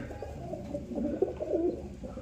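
Pigeons coo softly from a loft where mated pairs and chicks are kept, with low, steady cooing calls overlapping throughout against a faint background hum.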